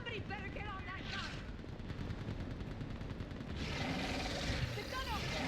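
Mounted gun fire in the Mass Effect 3 video game, a steady rapid rattle of shots under battle noise, with voices talking over the fighting throughout.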